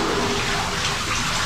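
Wastewater rushing out of a cleared sewer hole at a hospital after a clog of baby wipes, a loud continuous gushing flow with no speech over it.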